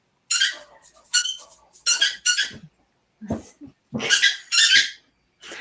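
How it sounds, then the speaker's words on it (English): A dog playing with squeaky toy balls indoors, sharp high squeaks in quick bursts and clusters, mixed with short excited vocal noises and breathing, close and fairly loud. "our daughter to get balls for her, and she comes back with squeaky balls"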